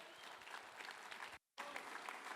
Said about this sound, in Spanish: Dale un fuerte aplauso al Cristo de la gloria.